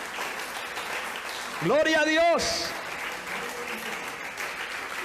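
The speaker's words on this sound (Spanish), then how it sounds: "¿Le quiere dar un aplauso al Señor un momentico?" Church congregation clapping in steady applause, with one voice loudly calling out a short praise over the clapping partway through.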